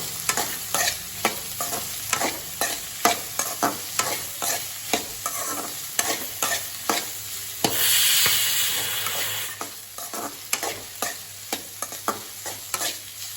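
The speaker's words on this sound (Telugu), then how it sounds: "ముందుగా కట్ చేసుకున్నటువంటి టమాటా ముక్కలు వేసి బాగా వేయించుకోవాలి" Tomato pieces fry in a pan while a spoon stirs them in a steady, regular rhythm of close scraping strokes over a continuous sizzle, with a brief louder hiss of steam midway.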